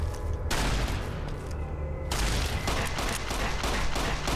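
Heavy bursts of shotgun fire in the video game Fallout, loud and dense, blasts overlapping in a rapid barrage with a brief lull partway through.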